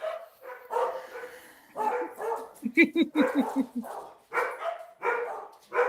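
Dogs barking in the 2007 Spanish horror film REC, a run of sharp close barks in the middle of the clip, with indistinct voices talking before and after.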